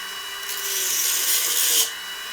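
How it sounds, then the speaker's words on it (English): A Dremel rotary tool runs a mark along a jig while modifying a 1/10 scale Atlas RC truck, a thin high whine rising for about a second and a half, then stopping. "take my Dremel, run it right down beside the jig here"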